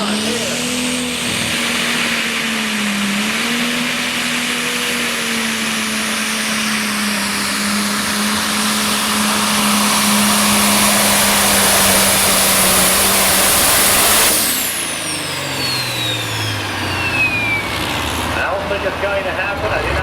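A tractor engine in a tractor pull, a loud sustained roar holding a steady pitch for about fourteen seconds before abruptly dropping and winding down, with a commentator talking over it.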